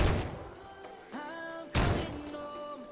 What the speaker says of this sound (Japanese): 左の方でも銃声鳴ってますね。